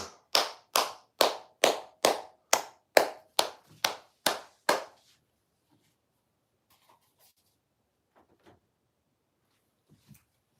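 Around ten crisp, evenly spaced hand claps ring out close by for about five seconds, then stop, leaving quiet broken only by a few faint, scattered small noises.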